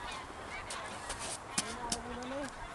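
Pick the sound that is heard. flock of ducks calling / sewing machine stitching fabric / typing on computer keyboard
flock of ducks calling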